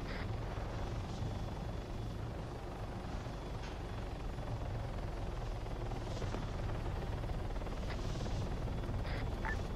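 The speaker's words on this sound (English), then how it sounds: "take care of that chopper if it fires at you" A helicopter in the video game Arma 3, a continuous dense rotor drone that stays at the same loudness throughout with no talk.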